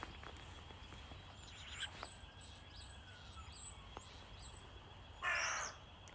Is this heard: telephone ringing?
no